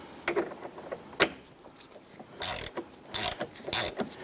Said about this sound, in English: I want to go ahead and get that lower bolt in. Get that started, a few threads.